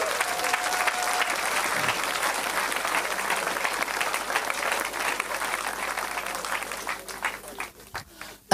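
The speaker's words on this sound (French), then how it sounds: "Non, on peut acclamer Jésus" Congregation at a French-language church service applauding and cheering for Jesus, a steady dense wash of clapping and crowd noise that fills the whole stretch before thinning out near the end.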